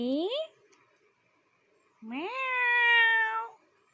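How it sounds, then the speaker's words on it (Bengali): Kittens behind a window meowing in two close, clear cries, a short mew followed by a longer drawn-out one after a brief silence. "আমাদের ঘরে জানলার পিছনে তিনটে বিড়াল ছানা দেখো কি করে"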